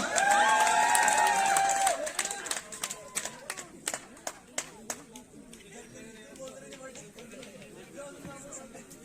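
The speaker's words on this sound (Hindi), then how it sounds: "जोरदार तालियां" Applause at a new year party in an academy starts with loud whooping and clapping, then thins into scattered sharp claps and chatter as the cheering fades.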